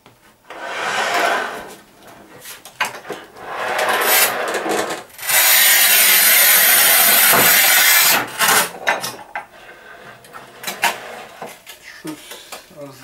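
Manual tile cutters, a Bihui MAX and a Shijing 3751 rated for 1200 mm tiles, score tile with harsh rasping strokes of varying length, one long loud pass in the middle, while people talk between the cuts.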